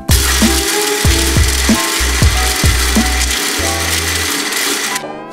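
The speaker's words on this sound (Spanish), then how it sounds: "Y esto lo llevamos a la licuadora." A kitchen blender crushes pebble ice for a blue margarita-style cocktail, running loud and steady with a rhythmic chopping pulse as the ice breaks up, then winding down near the end.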